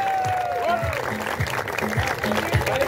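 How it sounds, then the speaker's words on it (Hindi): Crowd applause at a cricket gala prize ceremony rolling on steadily, with a rhythmic low thumping and a faint high tone sliding down near the start. "बहुत सारी तालियों में।"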